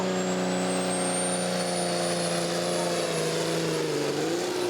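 A tractor pulling a weighted sledge down a competition track at a holiday weekend Eurocup pulling final, engine droning loud and steady with rising and falling tones as it pulls away.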